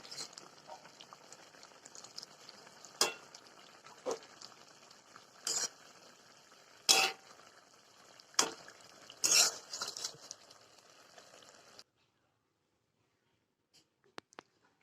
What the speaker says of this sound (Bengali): এবার একটু হালকা নেড়ে নেবো